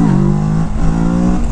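A 2021 Kawasaki Z650 motorcycle engine revs hard as the clutch is slipped for a wheelie, a loud, close, sustained roar that dips briefly and climbs again.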